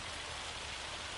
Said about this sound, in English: This has got to be some kind of record for the most rain on this game.